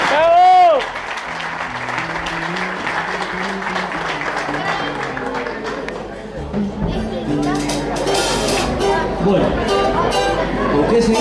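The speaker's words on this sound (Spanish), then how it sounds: "Un fuerte aplauso." An audience at a dinner event claps for a group of singers, the applause loud and rising toward the end, mixed with crowd chatter and a person speaking over it.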